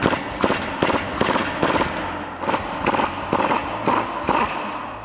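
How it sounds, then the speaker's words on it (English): Removing a suspension bolt from a 2011-2023 Dodge Charger with a 15mm socket and 18mm wrench: a rapid, loud, steady series of mechanical clattering bursts, like an impact tool hammering repeatedly. "Now we can go ahead and remove the bolt using our 15mm socket and our 18mm wrench."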